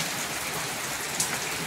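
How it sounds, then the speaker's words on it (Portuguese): Heavy rain pouring down steadily during a storm in Manaus, a dense unbroken hiss of water close by with a faint splash near the end. "Mais de 2 horas de chuva forte aqui na Manaus"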